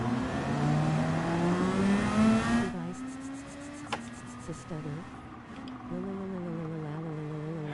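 A Lexus RC F race car in Gran Turismo 7 revs and drones, its engine tone climbing then dropping off, and someone speaks over the engine later on.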